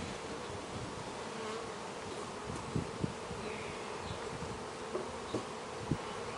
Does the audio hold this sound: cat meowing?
no